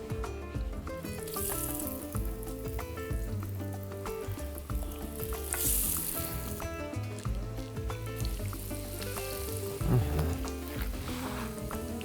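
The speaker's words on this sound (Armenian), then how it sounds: "Բուսայուղը արդեն տաքացել է, սկսենք տապակել կողիկները։" Beef ribs fry in hot vegetable oil with a steady, continuous sizzle that sits close and fills the whole stretch, with tonal sounds layered underneath.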